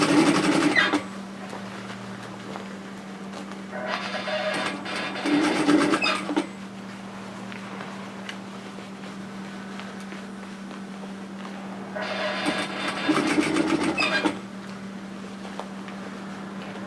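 A sewing machine stitches a side seam on a dress in three runs of steady whirring, one at the start, a longer one in the middle and one near the end, separated by quieter handling noise under a constant hum.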